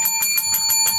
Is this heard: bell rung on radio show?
yes